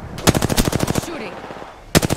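Rapid automatic gunfire from Apex Legends rattles out in a loud, fast burst of about a dozen shots, then a short lull, then another quick burst begins.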